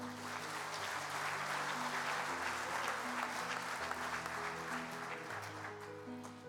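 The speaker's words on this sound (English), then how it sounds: "Join me in giving this year's 4-star corporate sponsors another round of applause" Sustained applause from a large convention audience for corporate sponsors at the Kansas FFA Convention, dense steady clapping filling the hall, with tonal hum beneath and no clear talk.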